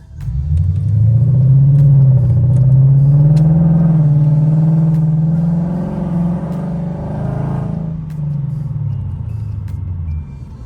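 A Lexus RC F fitted with PPE headers accelerating in drive mode, a loud deep exhaust roar that climbs in pitch and holds for several seconds before easing off as the car pulls away, with no talk.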